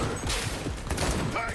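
Rapid gunfire in a shooter video game, a dense burst of overlapping shots filling the short stretch at steady loudness.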